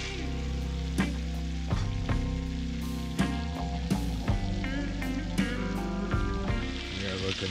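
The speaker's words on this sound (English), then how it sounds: "All right, that's some hot butter. Into the pan we go." Fish frying in hot butter in a pan while boat camping: a steady close-up sizzle with crackling pops and occasional clinks of the pan throughout.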